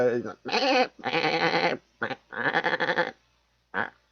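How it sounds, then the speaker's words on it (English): Several loud, close bleats in quick succession, harsh and wavering, with short pauses between calls and one brief final cry. "Whenever I hear goats, I feel like they're just screaming at me for food."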